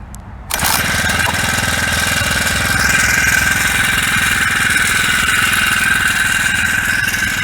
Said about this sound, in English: See how it starts, cold start